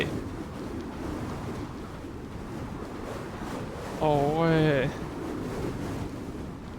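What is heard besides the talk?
storm wind gusts and waves in the video game Gears of War 4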